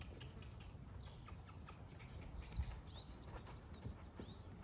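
A horse walking near a hay pile, soft irregular hoof clops on the ground, faint and close, with light rustling and distant bird chirps in the background.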